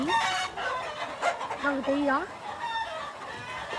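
A turkey on a farm where chickens and fighting roosters are raised gives a few warbling, rising calls close by, while someone talks over them.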